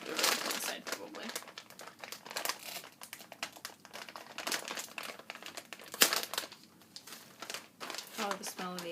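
A crinkly bag of wasabi-flavored chips being pulled open, with close, continuous plastic crinkling and rustling and a sharper rip near the middle, while a person talks throughout.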